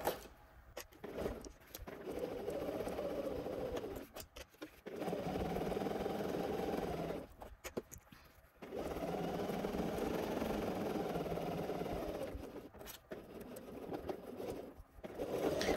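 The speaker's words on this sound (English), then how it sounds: "Okay, now we're just going to sew along." A sewing machine stitches fabric in three long, steady runs of motor whir and needle chatter, broken by short quiet pauses and soft handling clicks, close up with nobody speaking.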